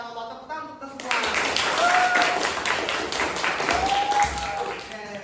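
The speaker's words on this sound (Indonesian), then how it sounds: "tepuk tangan untuk semua" Classroom applause during a teacher's lesson, a steady dense patter of clapping after a brief quiet start, with voices and occasional whoops mixed in.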